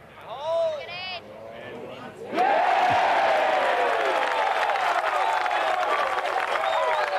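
Spectators at the 151st Open Championship golf break into loud applause and cheers after a birdie putt, following a brief stretch of quieter voices, the clapping sustained and dense to the end.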